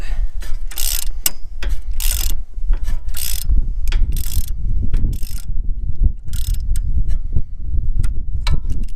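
A hand ratchet wrench loosening the front strut bolts on a Mazda 6, producing rapid bursts of clicking pawl strokes in a repeating rhythm, close and loud, with no voices.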